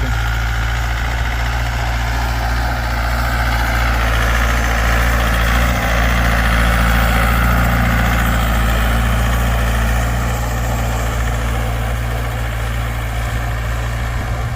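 A tractor pulls a used plough in first gear, its engine producing a steady, loud low-pitched rumble with constant vibration throughout, no voices over it.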